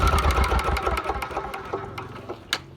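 A Yanmar diesel engine drives a model 535 high-pressure spray pump, producing a close, steady idle of rapid rhythmic chugging knocks with no voices.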